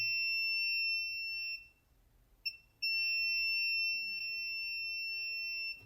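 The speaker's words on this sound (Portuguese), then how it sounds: "Ele bipa do outro lado, ele bipa também. Então o capacitor bipou dos dois lados" A multimeter's continuity tester beeps while probing a capacitor on an inverter circuit board. Two steady high tones sound close and clear, with a short gap and a brief blip between them.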